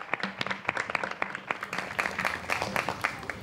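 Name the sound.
audience applause at a gala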